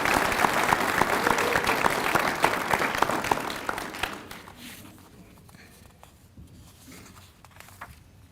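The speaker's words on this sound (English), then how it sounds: "Please give yourself an applause." A graduation audience at a high school winter ceremony claps loudly for about four seconds, then the applause thins out and fades to scattered claps and room noise.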